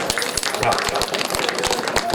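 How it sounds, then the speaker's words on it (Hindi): Audience at a Bhagavat Katha gathering breaking into applause, a short burst of dense clapping heard close and steady under some voices. "एक बार जोरदार ताली हो जाए।"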